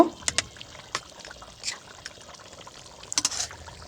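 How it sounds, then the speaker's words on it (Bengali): Hot water is poured into duck meat braising in a pot, heard as brief splashes and trickles with a few light clinks, fairly close and separated by quiet gaps. "এখানে আমি পানি দিয়ে দিব এখানে চেষ্টা করবেন একটু গরম পানি নেওয়ার"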